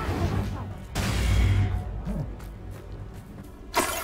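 A Confringo fire-blasting spell cast in Hogwarts Legacy, a sharp burst followed by a rumbling blast lasting about a second, then quieter ambience and a second brief crack near the end, with a voice speaking.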